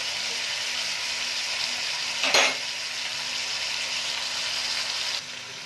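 Chicken frying with tomatoes in a pot, a steady loud sizzle throughout, broken by one brief scrape of a spoon stirring the pieces.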